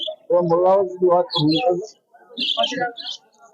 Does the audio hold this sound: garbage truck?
no